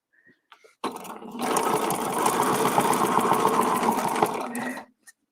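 A sewing machine stitching a single loop, starting after a few small clicks and running in a steady close buzzing whir for about four seconds before stopping abruptly, with no voices.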